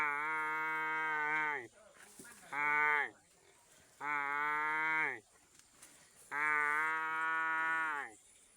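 A water buffalo that has just given birth bellows in four long, loud moos separated by short pauses, calling for its calf while a person imitates the calf's cry nearby.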